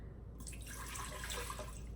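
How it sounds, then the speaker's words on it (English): One and a half cups of water pour steadily into an Instant Pot liner in a kitchen, a continuous soft splashing trickle, quiet and alone, lasting about two seconds. "I'm going to add 1 1/2 cups of water into the Instant Pot liner."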